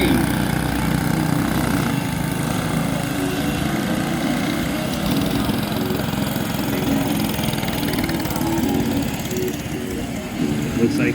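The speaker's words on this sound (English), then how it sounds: "This is the kid kart class." Kid karts race in a heat at Lawrenceburg Motorcycle Speedway, a dense continuous buzz of small engines droning around the track without letup, with a public-address commentator talking over it.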